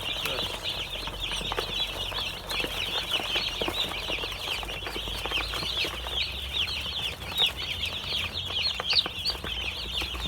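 Newly hatched chicks on a farm peep and chirp continuously in a dense, high chorus, close by, with soft rustling, fluttering and splashes from a water dish beneath them; no one speaks.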